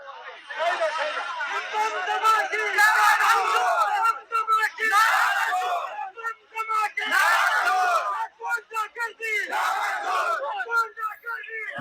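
A large crowd in Bajaur chants slogans in loud, rhythmic bursts of many voices shouting together, with short pauses between the chants.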